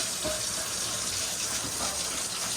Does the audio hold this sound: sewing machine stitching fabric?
no